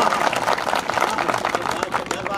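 An audience at a Hindi comic poetry gathering claps and cheers in a dense burst of applause that fills the whole moment, loud and close.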